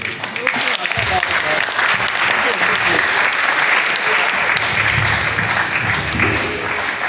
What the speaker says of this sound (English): If you want to clap, you can clap.